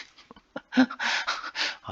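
Quick, faint yaps and whimpering barks from a small neighbouring dog, a cluster of short bursts heard at a moderate distance, with no talk.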